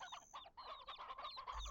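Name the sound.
chicken clucking in the video game Black Desert Online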